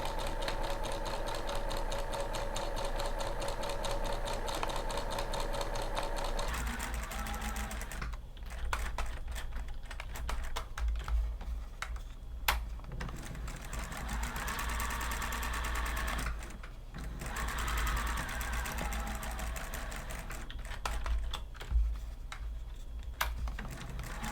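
A sewing machine stitches twin needle scalloped pintucks with a steady fast mechanical whir, pausing briefly for pivots at the peaks before running on again, close and alone without talk.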